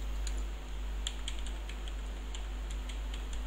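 C++ program code typed on a computer keyboard: sparse, light key clicks tap out irregularly over a steady low electrical hum, with no talk.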